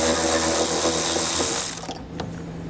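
Ratchet with a 10mm socket loosening the tow hook nut on a 2017 Infiniti, a steady close mechanical whirr for most of the clip before it drops off into quieter rattles.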